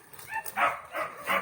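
A dog whines in short, high-pitched bursts, four or five soft whimpers close by with brief pauses between them.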